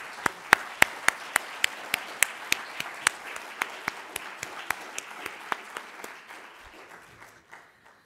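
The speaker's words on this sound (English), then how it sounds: "Give ourselves a clap" Group of meeting attendees clapping for themselves at a conference, a sparse set of distinct claps in a steady rhythm over a soft background of applause, tapering off near the end.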